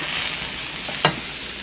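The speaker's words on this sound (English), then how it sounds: "Oh yeah, sizzle. I love that sound." A steady close sizzle of Korean fried rice frying in a pan, with a brief scrape of stirring partway through.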